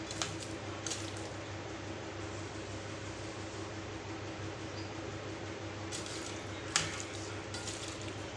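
Raw prawns washed by hand in water with salt and turmeric, a soft continuous wet squishing and sloshing, close and quiet, with a few light splashes and no talk.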